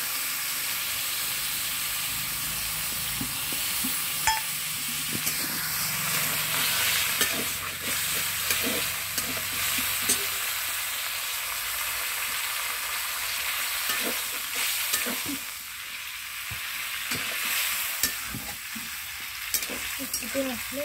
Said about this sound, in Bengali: হালকা হাতে নাড়াচাড়া করবো, এবার একটু জল দিচ্ছি